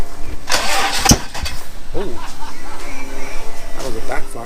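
An AWD Honda CRX engine cranks over on its first start and lets out a sharp backfire pop, followed by rough running, with people talking over it.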